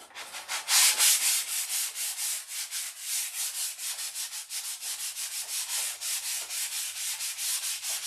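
Steady rhythmic scratching of 180-grit sandpaper rubbed back and forth over wood, close and continuous, with no voices.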